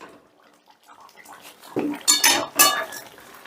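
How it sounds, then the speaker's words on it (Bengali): Metal lid lifted off a pot of simmering bean and potato curry, quiet at first, then a few close, bright clanks and scrapes as the lid comes away. "পাঁচ মিনিট বাদে ঢাকাটা তুলে নিলাম"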